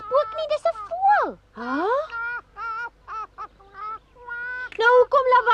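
A cartoon bird in the Afrikaans Pinocchio series honks like a goose, a voice producing a string of bright, swooping nasal honks of varying pitch, loud and close with short gaps between calls.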